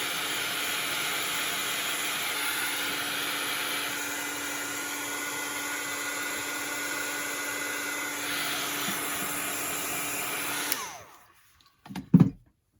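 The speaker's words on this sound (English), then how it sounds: "Going to hit it with the blow dryer just a little bit so we can move on here." A blow dryer runs on wet decoupaged paper for about eleven seconds, a loud, even airy roar with a steady motor tone, then cuts off abruptly, followed by near silence and a couple of brief handling knocks.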